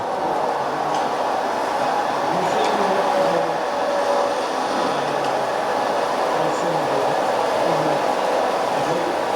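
An N scale model train hauls coal cars through a mountain layout at a model railroad club open house, giving a steady, continuous rolling hum and rumble with faint clicks that stays level throughout.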